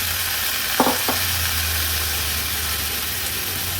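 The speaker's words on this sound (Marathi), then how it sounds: "वाटण तेलावर शिजवून घेतल्यावर सर्व भाज्या आपण ह्याच्यात ऍड करणार आहोत" Mixed vegetables fry in oil with a cooked ground spice paste for an Agri-Koli style thali, giving a steady low sizzle with a couple of faint utensil clinks.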